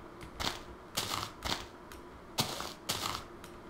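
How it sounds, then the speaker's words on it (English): Computer keyboard typing recorded faintly in a room during a Minecraft game session, with irregular clusters of soft clicking keystrokes in short bursts and quiet gaps between them. "Sorry if you hear my keyboard."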